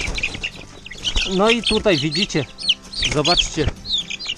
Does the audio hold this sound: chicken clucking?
yes